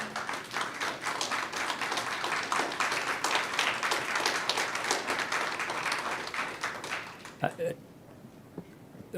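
An audience at a school governing board meeting applauds in a sustained wash of many clapping hands that fades out near the end, leaving a few isolated claps and a quiet room.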